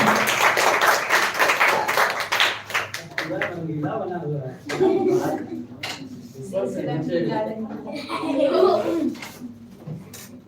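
An audience claps for a speaker called to the podium at a school speech competition grand finale. Dense, loud applause fills the opening seconds, then thins to scattered claps as talking takes over.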